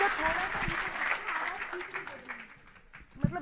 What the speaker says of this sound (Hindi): यदि आप लोगों को आनंद आ रहा है तो एक बार मुझे ताली बजा करके आदेशित करें।